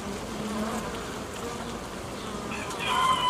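Honey bees buzz steadily and densely at a hive during work on strengthening a nucleus colony, a continuous close insect drone that swells slightly louder toward the end.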